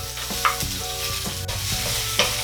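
Chopped onion frying in a pan for a sardine and watermelon dish, a loud steady sizzle broken by a few scraping stirs and light spoon knocks, close and without talk.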